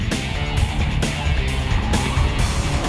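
A Porsche Macan Turbo SUV's twin-turbo V6 roars loud and close, with a dense, sustained engine note broken by brief shifts or pulses about every half second.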